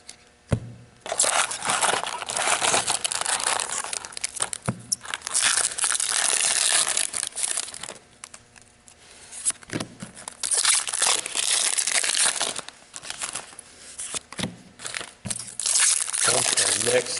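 Pokémon XY Evolutions booster pack wrappers crinkle and tear in loud, close bursts of rustling plastic, several separate rounds with short pauses between.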